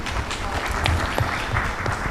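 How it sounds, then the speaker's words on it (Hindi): Applause from a crowd at an event honoring a young woman named Shreya, dense clapping with some low thumps and a bit of background voice mixed in, steady throughout. "सबसे पहले श्रेया के लिए जोरदार ताली।"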